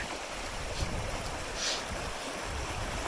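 Creek flowing beside a campsite along the Pacific Crest Trail in California, a steady broadband rush of water running continuously and close by, with no voices.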